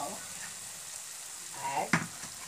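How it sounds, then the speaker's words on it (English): Masala with salt frying in a pan for a Hyderabadi meetha nathili ka salan, a steady close sizzle with a brief stir or scrape clatter near the end. "add salt for this masala. Let it fry for 30 seconds."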